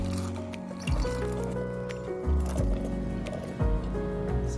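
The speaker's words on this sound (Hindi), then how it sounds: "इन सारी सब्जियों को मैं कुकर में डाल दूंगी" Chopped vegetables for homemade sambar tipped into water in a pressure cooker, giving several wet plops and squishy splashes at close range over a steady background hum.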